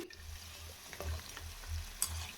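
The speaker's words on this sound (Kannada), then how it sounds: "ಹಾಗಾಗಿ ಮೀಡಿಯಮ್ ಊರಿನಲ್ಲೇ ಫ್ರೈ ಮಾಡ್ಕೊಬೇಕು" A crisp snack made from wheat flour and maida deep-frying in oil over medium heat, a quiet steady bubbling sizzle with occasional soft stirring clinks and pops.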